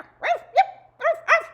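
A dog barks four times in two quick pairs, short tonal woofs with rising and falling pitch, close and clear against a quiet background.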